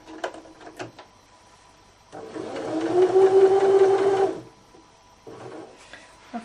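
A sewing machine back-stitching fabric runs in one steady whirring burst of about two seconds, preceded and followed by faint clicks and handling noises in a quiet room.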